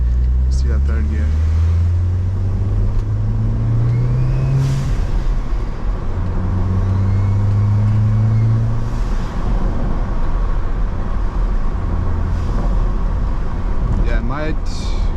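Audi A4 fitted with new coilovers driving on the road, steady engine drone rising and falling through gear changes with tyre and road noise, while someone talks over it.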